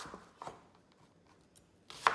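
A knife chops through an onion on a cutting board in a few separate strokes: two quick thuds near the start and a sharper, louder cut at the end, with near silence in between.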